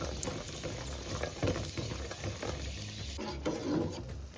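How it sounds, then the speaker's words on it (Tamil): Cashews and raisins frying in ghee for milk payasam, a soft low crackle and sizzle with faint stirring scrapes, quiet and steady throughout. "பால் பாயாசத்துக்கு முந்திரியும் திராட்சையும் நெய்யில் பொன்னிறமாக வறுத்து எடுத்துக்கோங்க"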